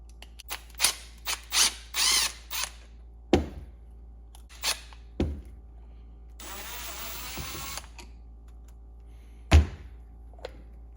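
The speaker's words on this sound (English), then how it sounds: "The very first thing I'm going to do is take these 2 screws off" Screws being removed from the carburetor top of a Suzuki DRZ400SM, with close, sharp clicks and thunks of a tool, a few short ratcheting bursts and a longer buzzing mechanical whir in the middle, separated by quiet gaps.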